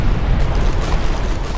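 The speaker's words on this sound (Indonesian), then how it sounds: "Bom dan ranjau meledak bersamaan menewaskan banyak prajurit sekaligus meratakan sebagian hutan." Bombs and mines explode together in a movie battle scene in a forest, making a loud, continuous, rumbling roar of blasts that fills the whole stretch.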